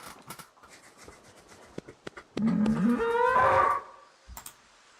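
A cow in the video game Project Zomboid gives one long, low moo that rises in pitch, set among scattered clicks and soft shuffling noises.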